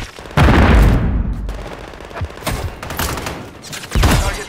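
Heavy bursts of automatic gunfire in the video game Call of Duty, loud and close with booming shots and several separate volleys across a few seconds.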